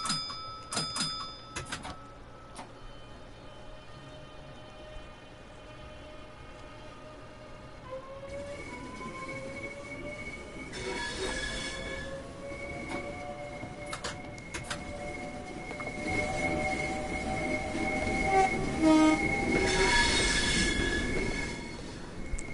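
A train runs on the Chatham main line in Train Sim World 2, with steady rolling rumble and rising, sustained wheel squeals that grow louder and denser toward the end.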